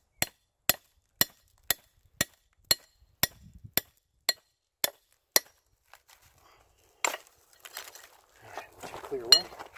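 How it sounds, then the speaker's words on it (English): A steel gad bar struck like a chisel against quartz rock on a mountainside: about ten crisp, evenly paced metallic blows ring out close and loud, then stop, giving way to scattered rock clatter and talking. "Sometimes you can take a gad bar and use it like a chisel."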